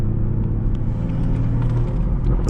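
A BMW 440i on the road, its engine giving a steady, deep rumble with a low hum from inside the cabin, continuous and fairly loud, no voices.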